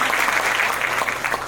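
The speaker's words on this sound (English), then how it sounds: "Let's give a round of applause" Applause from an audience at a film premiere Q&A, a brief dense patter of many hands clapping, steady and fairly loud for its whole short length.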